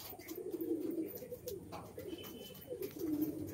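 A large flock of pigeons coos continuously at close range, many overlapping throaty calls in a steady low chorus with no talking.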